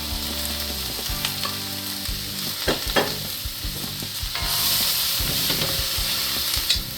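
Cabbage and green onion frying for yakisoba, a steady close sizzle with stirring scrapes and clacks throughout, the frying swelling louder in the second half.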